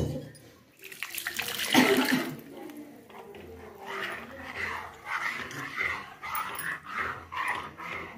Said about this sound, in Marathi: हेच पाणी आपण त्यामध्ये टाकणार.